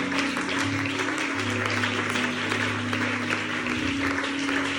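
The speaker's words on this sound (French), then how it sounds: "Acclame pour le Seigneur si tu veux." A church congregation applauds continuously at a Easter seminar in Pointe-Noire, a dense steady wash of clapping with a sustained low hum from instruments or organ underneath.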